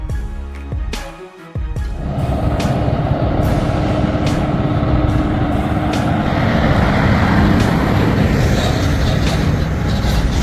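Truck hauling a very long trailer through a tight corner, giving a loud, close diesel rumble that runs almost continuously, with brief hissing bursts at the start.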